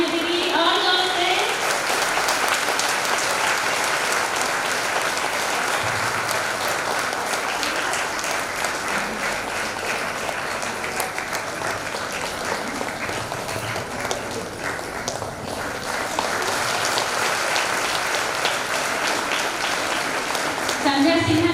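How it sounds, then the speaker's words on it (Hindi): Loud, sustained applause at a provincial women's empowerment workshop in Raipur: a continuous roar of clapping from a large audience that holds for about twenty seconds, with voices audible at the start and end. "तालियों की गड़गड़ाहट गूंजती रहे।"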